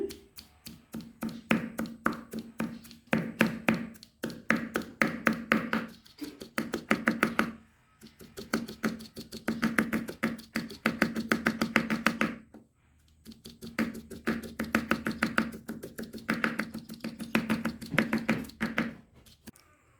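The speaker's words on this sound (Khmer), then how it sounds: "បន្ទាប់មកគឺយើងធ្វើការចិញ្ច្រាំវាឲ្យ" Prahok pounded with spice paste in a mortar makes rapid, steady pestle thuds in bursts of a few seconds separated by short pauses, close and moderately loud, with no talk.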